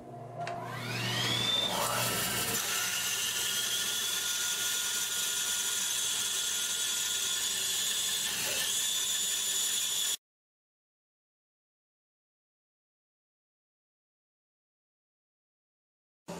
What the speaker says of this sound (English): And now I'm going to saw that off.